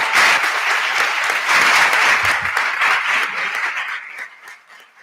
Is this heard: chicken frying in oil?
no